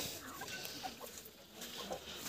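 Faint clucking from crested laying hens, a few soft scattered calls over a quiet farmyard background with no talking.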